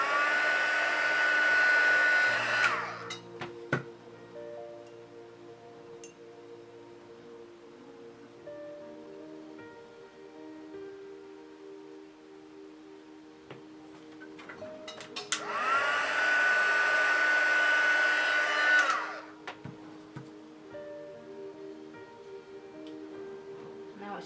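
A heat tool blows steadily to heat set a crease in a painted piece, in two loud bursts of a few seconds each, separated by a quieter stretch with light handling sounds.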